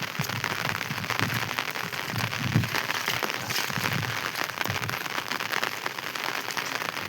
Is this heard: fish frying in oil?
no